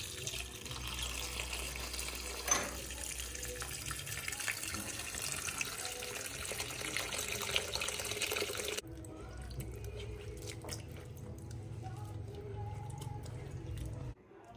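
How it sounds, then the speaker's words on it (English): Running tap water splashes over cut carrot and vegetable pieces in a kitchen sink, a steady hissing flow with occasional drips and clatters, then a quieter stretch of trickling water in the second half. "What I'll do now is go wash them and start preparing them."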